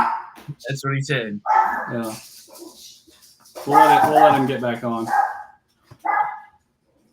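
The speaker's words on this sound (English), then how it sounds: "That was the dog." A dog barks a few times indoors during a talk-show chat with Little League baseball coaches, the yelps mixed in with and partly under people talking.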